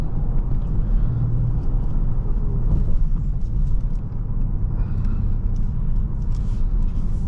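A 2023 Kia Stinger GT2 AWD on a test drive, a continuous loud low rumble of engine and road noise from inside the cabin, the tone rising and falling slightly as it accelerates.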